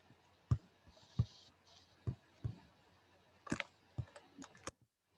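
A computer mouse clicks while someone works in Microsoft Word, sharp isolated taps spaced irregularly about a second apart, close and fairly quiet over a low hum, with no talk during them.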